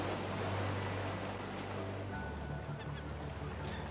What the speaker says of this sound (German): Ich höre dich, Möwe.